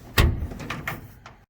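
The door of a 1951 Ford F1 pickup is moved, giving a close metallic thunk followed by a few rattling clicks and a final light knock.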